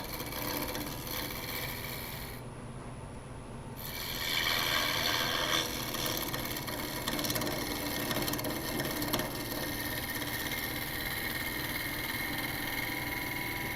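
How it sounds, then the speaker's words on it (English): A skew chisel peels wood on a spinning lathe while a blank is roughed toward round, a steady droning whir of the machine with a rough continuous cutting hiss that swells midway and holds. "take my skew and just peel back a little bit closer here so I know where my material is"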